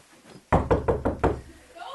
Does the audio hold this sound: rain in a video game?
no